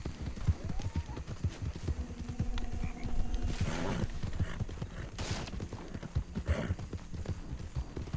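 Hooves of a horse in Red Dead Redemption 2 Online clop in a steady, fast trot along a road, close and continuous, with a brief whinny-like call and faint wind noise over the gait.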